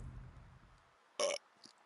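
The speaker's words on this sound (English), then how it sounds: "Oh, I got hiccups." A single short, loud hiccup-like gulp sounds after quiet low rumble, with a fainter second catch a moment later.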